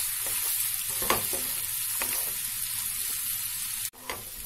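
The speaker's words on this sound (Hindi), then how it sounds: "प्याज को हम थोड़ा ट्रांसपेरेंट होने तक भून लेंगे।" Onions sizzle while frying in a pan for chicken bhuna masala. A continuous close hiss is broken by a few scraping stirs and a sharp clunk near the end.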